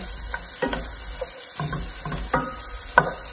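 Mince browning in a frying pan, giving a steady sizzle and frying hiss broken by irregular scrapes and clatters of stirring, fairly close and with no voices.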